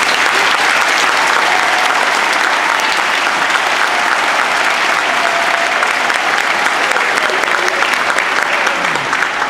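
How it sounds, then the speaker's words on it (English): Applause for school choir singers fills a hall at a district choral concert, dense and continuous clapping from a large audience lasting throughout. "let's give a nice round of applause for all of our singers."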